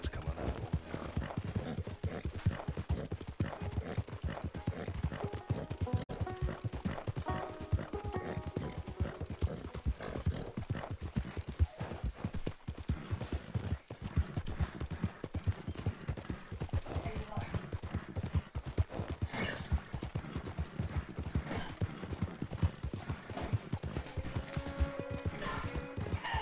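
A horse gallops in the video game Red Dead Redemption 2, hooves pounding in a fast, continuous rhythm throughout with occasional whinnies and someone talking over it.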